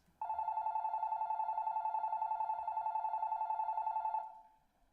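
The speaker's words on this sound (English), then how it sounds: "Wow, I have not heard a ringtone like that in a while." An old-style telephone ringtone sounds in the visual novel Tsukihime, a single sustained electronic trill with a fast buzzing pulse, clear and fairly loud, lasting about four seconds before cutting off with a short fading tail.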